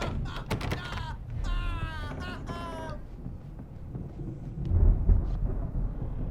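A thunderstorm in the video game Alan Wake Remastered: after a few creaky, tonal sounds, low thunder rolls in and swells into a heavier rumble near the end.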